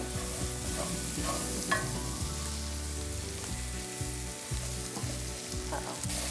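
Wild mushrooms frying in butter, a dense steady sizzle filling the pan, with low rhythmic knocks and shuffles as they are tossed and stirred.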